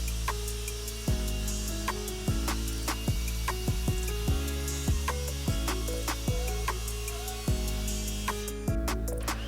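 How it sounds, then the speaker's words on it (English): A table saw rips the rounded factory edges off 2x4 lumber, and each cut sounds like a sharp burst of blade noise over a constant motor hum. The passes come in a regular series, close and loud. "I like to rip off both of those rounded edges just to give it a nice"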